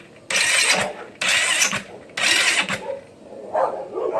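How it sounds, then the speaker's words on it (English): A GY6 scooter engine cranked by its starter without catching, three loud whirring bursts of about a second each separated by short pauses, close up, then a fainter mechanical rattle. "Let's see if we can crank it over."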